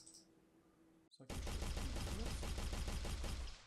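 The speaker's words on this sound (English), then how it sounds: "if I shoot one bullet" Rapid automatic gunfire from a weapon in an Unreal Engine first-person shooter game, a loud continuous burst of shots that begins abruptly after a quiet lull and a brief click.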